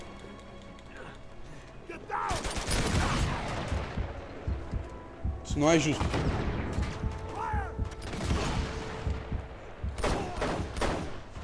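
Video game gunfire from Uncharted 2: Among Thieves crackles in bursts and single shots amid mechanical clanks, while a person talks excitedly over the action.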